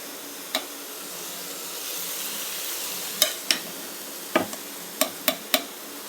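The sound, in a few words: stirring cooked rice with sugar in a pot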